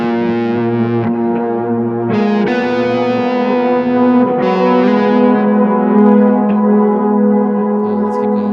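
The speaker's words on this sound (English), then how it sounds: "I guess it sounds like your guitar's drowning." Electric guitar through a Kemper amp with a bandpass EQ underwater effect, sustained distorted chords with a muffled, watery tone and echoing tails, changing chords every second or two, no voices.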